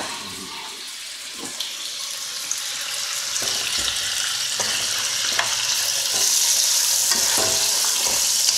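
A T-bone steak fries in beef fat in a pan, with a continuous loud sizzle and crackle broken by scattered pops and occasional stirring clatter.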